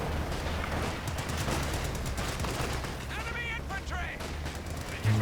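BTR gunfire in a Company of Heroes 2 multiplayer battle, rapid repeated shots and bursts mixed with other combat noise, steady throughout while a commentator talks over it.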